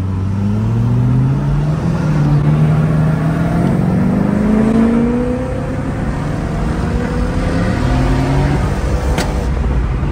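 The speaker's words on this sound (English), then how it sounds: "This car is just so effortless to drive." A Mercedes W210 Brabus E65 drives along by the beach, its engine a steady, close drone that rises and falls in pitch as it gently accelerates and shifts, with no talking.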